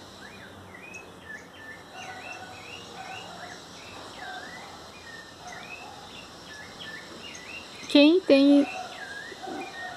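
Songbirds singing in a backyard in the spring morning, steady chirping and trilling calls with insects in the background, and a voice speaking briefly near the end.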